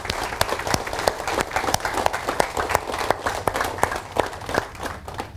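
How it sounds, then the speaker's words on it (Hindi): An audience at a motivational seminar bursts into loud, sustained applause, dense clapping from a large crowd continuing steadily throughout. "फिर से एक बार जोरदार तालियां।"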